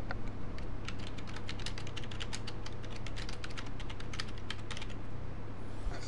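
Steady typing on a computer keyboard: a rapid, continuous run of close, crisp key clicks lasting several seconds, with no talking.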